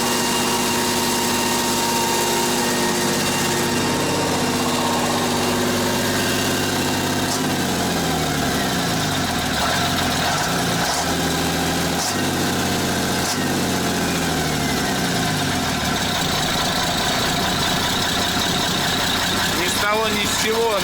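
The engine of a Praga V3S 6x6 truck idles close by in a steady, dense rumble with a constant vibrating drone throughout, and small pitch shifts and knocks ride on top of it.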